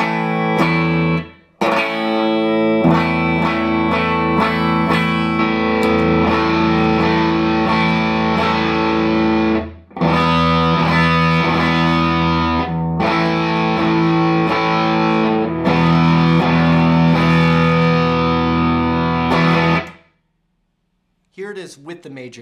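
Distorted electric guitar playing power chords with the third left out, rock style: several loud, sustained crunchy chords of a few seconds each, separated by short breaks, with a person talking between some of them.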